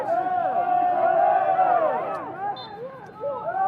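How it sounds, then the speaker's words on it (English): Crowd at a women's college soccer match between Coffeyville and Pratt shouting loudly together, demanding a referee's call, with the roar swelling, then fading and picking up again. "Crowd wanting some sort of call there."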